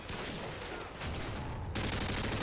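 Dense rapid gunfire rattles in a video game, a loud continuous burst of automatic shots that grows heavier toward the end.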